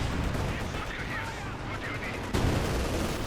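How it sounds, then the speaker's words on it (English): Dense battle din from Company of Heroes 2, an OKW side with a Panther tank fighting Soviet forces: a steady wash of overlapping gunfire and explosions, with a sharper, louder burst near the end. "More explosions, more death."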